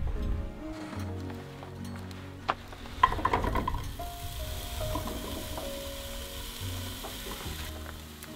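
Gala apples dropped into a hot pan sizzle and crackle at moderate volume, with a soft steady frying hiss, some stirring clatter and a few sharper knocks partway through.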